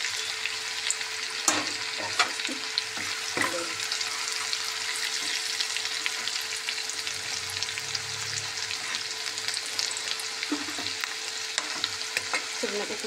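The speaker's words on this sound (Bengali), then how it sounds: "এঁচোড়টা ভালোভাবে ভেজে নিই আর গাছ পাতাটা ভালোভাবে ভেজে নিই" Young jackfruit and leaves fry in oil while being stirred, giving a steady close sizzle with occasional scraping spatula strokes against the pan.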